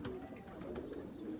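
French pigeons kept in a breeder's loft in Faisalabad coo softly in low, repeated throaty murmurs, fairly close, with faint background noise and no talk.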